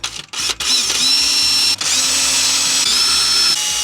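Close, loud whine of a power drill boring a pilot hole with a 3mm bit for self-tapping screws on a campervan grey waste drain fitting, a short start-stop burst and then a sustained high-pitched run.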